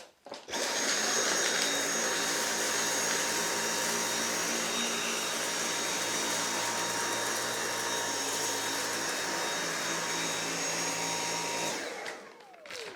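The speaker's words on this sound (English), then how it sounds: "you will be able to hear how loud or quiet the vacuum is as well" A Dyson V8 Animal cordless vacuum cleaner runs steadily and loudly on thick carpet for the whole stretch, a dense whine and roar with no pauses, cutting off at the end.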